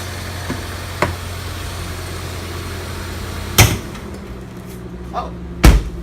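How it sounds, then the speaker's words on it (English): A few sharp mechanical clunks over a steady hum as the hood release of a 2017 Ford Fusion pops open, the loudest two near the end, like a latch releasing and popping. "Let me just go ahead and pop the hood here real quick."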